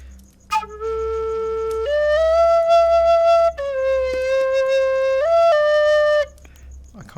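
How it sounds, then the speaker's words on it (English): A tin whistle plays a short sustained tune of clear held notes stepping between pitches, close and fairly loud, with breathy attacks and a brief gap between phrases. "The real question is, can we play tin whistle with VR controllers on?"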